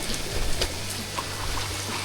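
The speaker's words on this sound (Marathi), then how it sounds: "आपण ओढा पार करूया" A rocky forest stream on the trek from Panhala fort to Pawankhind in the Sahyadri hills, crossed on foot, gives a steady nearby rush and trickle of running water with a few soft splashes.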